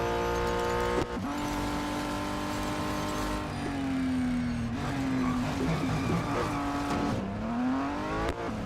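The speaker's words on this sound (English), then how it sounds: "I knew I had passed the braking zone, so I just skidded" A race car in the Real Racing 3 mobile game revs hard, then its tires squeal in long skids as it overshoots the braking zone, engine pitch dropping and rising again through the corner.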